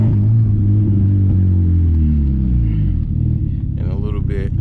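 A turbo Volkswagen Jetta moves off with a loud, low engine rumble whose pitch shifts as it pulls away, heard from close by with a voice speaking near the end.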